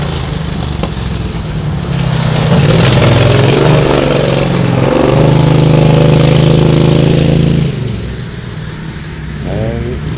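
An engine with a slipping drive belt runs on a test run at the Emslandring Dankern track, a loud steady droning hum that rises and holds, then eases toward the end, with voices talking over it.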